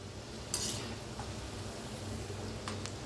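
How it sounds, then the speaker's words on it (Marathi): Shankarpali dough pieces fry in hot oil with a soft, steady sizzle, quiet and continuous, broken by a few faint clinks of a utensil stirring in the pan. "किती छान असं तळायला लागलेलं आहे."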